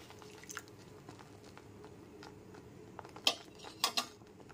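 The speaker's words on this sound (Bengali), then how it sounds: "জাফরান ভেজানো দুধটা দিয়েও খুব ভালো করে গ্যাসের ফ্লেমটা লোতে রেখে নাড়তে হবে" A spoon stirs khoya and saffron-soaked milk in a pan over a low gas flame, giving soft, quiet scraping and squishing with a few sharper metallic clinks toward the end, close and gentle.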